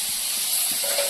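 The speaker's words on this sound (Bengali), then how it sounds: "এবার আমি পটল ভাজা করছি" Slices of pointed gourd (potol) fry in a pan, giving a dense, continuous sizzling hiss, close and steady throughout the short stretch, with no voices.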